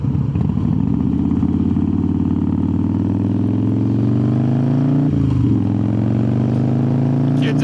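A 2003 Harley-Davidson Softail Standard cruiser rides along with a steady, loud low engine rumble and wind noise heard from the rider's position, the pitch dipping briefly with a gear change.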